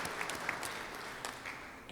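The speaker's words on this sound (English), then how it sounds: "Let's give them a round of applause for their birthdays this week." Applause from a Rotary club meeting crowd for members' birthdays, a steady moderate patter of many hands with a few louder claps, heard fairly close and without talk.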